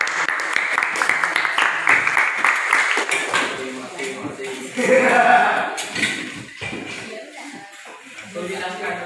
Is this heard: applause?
yes